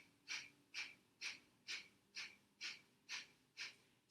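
Rhythmic breathing with the belly pumping on each exhale: eight short, sharp nasal breaths in an even, quick pulse, close and fairly soft, with no talking.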